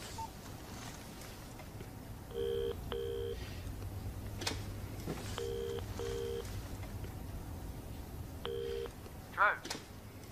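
A mobile phone number is dialed, with short paired keypad tones in three bursts over a quiet indoor hum, and a faint voice can be heard in the background.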